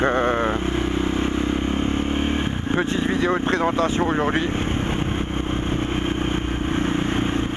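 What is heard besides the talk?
motorcycle engine running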